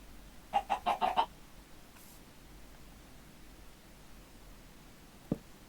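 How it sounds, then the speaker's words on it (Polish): A short burst of several quick clucks from a chicken, then quiet background hiss with a single faint knock near the end. "Te kurczaki są w ogóle jakieś głupie."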